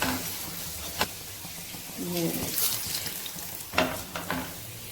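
Aloo paratha frying in ghee on a hot pan and being flipped, giving a steady soft sizzle with a few sharp clatters from the turn, with no talking over it.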